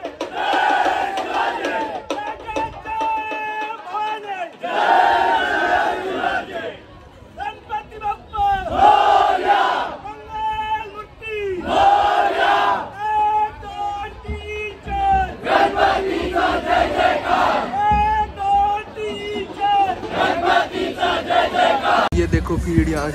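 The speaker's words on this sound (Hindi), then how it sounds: "देखो भीड़ यहाँ की, अब लग रहा है भाई फेस्टिवल है." A dense festival crowd roars and chants at a Ganesh Chaturthi procession for Ganpati Aagman, the Navy Nagar Cha Raja idol, loud and continuous with rising shouts and cheers throughout.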